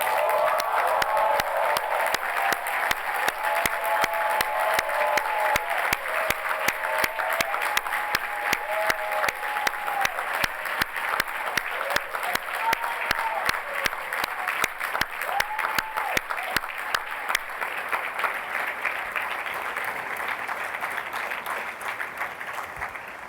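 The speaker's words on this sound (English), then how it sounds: "So please join me in offering them a heartfelt and rousing round of" Sustained, rousing applause from a large commencement ceremony audience, dense crowd clapping that carries steadily for over twenty seconds at moderate level, with faint voices murmuring underneath early on.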